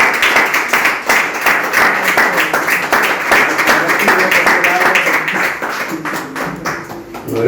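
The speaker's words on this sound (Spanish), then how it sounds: "Un aplauso." An audience applauds at the close of a Spanish conference lecture, a loud, close, sustained round of clapping with distinct individual claps and a faint voice near the end.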